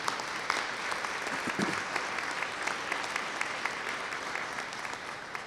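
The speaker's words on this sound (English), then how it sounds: "That's certainly worthy of applause." Audience at a spring evening commencement ceremony applauds graduates with steady, moderately distant clapping spread through a large hall, sustained evenly throughout without voices.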